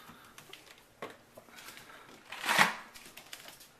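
A travel ice cooler is opened after seven days. Quiet handling taps and clicks lead to one brief, loud rushing rattle of the lid and contents, then the handling noise settles back down.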